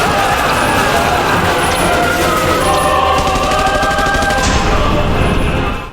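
Rapid automatic gunfire rattles continuously in a dense, loud barrage that stays intense throughout before cutting off abruptly at the end.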